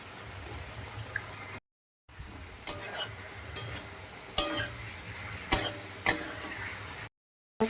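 Fried eggplant stirred with spice paste in a pan, giving soft intermittent scraping and clinking of a spatula with a low sizzle underneath, close and fairly quiet.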